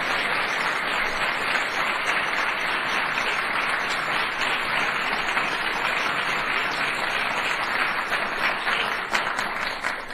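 Steady, dense applause from a large audience of students, educators and parents at an AI contest event, a continuous wash of many hands clapping at even loudness throughout, with no voices on top.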